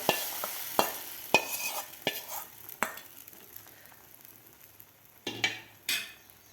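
Soaked gram flour batter is stirred quickly into a hot tempering for patvadi, with a soft sizzle underneath and sharp spoon strikes against the pan in an uneven rhythm, separated by short quieter gaps.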